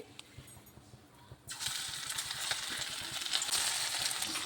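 Marinated chicken pakoda pieces drop one by one into hot oil, a quiet start giving way to a loud, steady broadband sizzle of deep frying that fills the rest of the clip.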